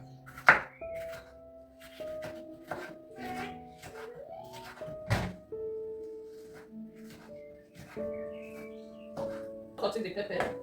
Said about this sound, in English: So we are going to slice the pepper